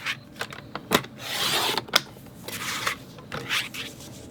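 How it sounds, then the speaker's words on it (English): Scissors cutting several pieces of cardstock paper to size for a mat in a crafting scrapbook project, brisk snips and rustling slides of paper close up, with short pauses between cuts. "So I'm going to cut 3 pieces that are 3"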